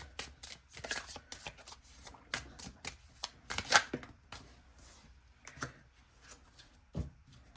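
A deck of cards is shuffled for a card reading, with crisp riffling flutters and soft taps in short irregular bursts, close and fairly quiet.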